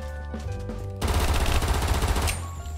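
Rapid automatic pistol fire in a Minecraft Chernobyl survival game: a dense, fast burst of shots near and loud, starting about a third of the way in and rattling on for over a second before easing off.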